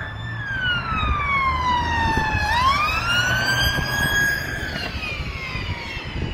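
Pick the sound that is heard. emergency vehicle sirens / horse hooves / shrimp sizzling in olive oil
emergency vehicle sirens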